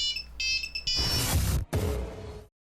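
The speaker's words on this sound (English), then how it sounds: "Yeah, phone call, phone call, phone call." A phone ringtone for an incoming call chimes in short repeated tonal bursts at the start, then gets swamped by loud game noise and rumble before cutting off.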